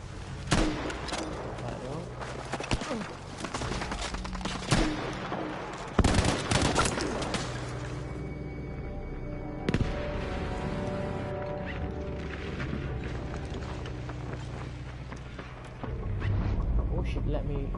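Battlefield V gunfire crackles through a busy game mix, with sharp bursts and single shots, explosive bangs and mechanical clatter layered over a continuous rumbling background.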